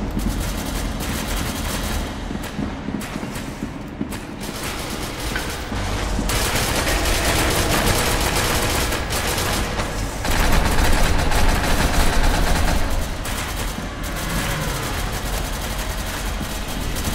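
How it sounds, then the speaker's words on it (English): Video game gunfire as a dense, continuous barrage of overlapping shots and rumbling blasts, loud and unbroken throughout, with no talking. "What are they shooting at?"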